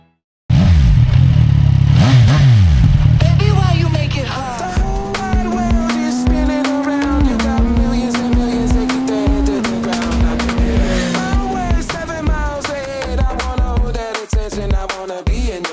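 CFMoto 675 SR-R three-cylinder sport motorcycle revs hard and loud, its engine note climbing through sustained high-pitched wails with gear changes, tire and road noise mixed in, no voices.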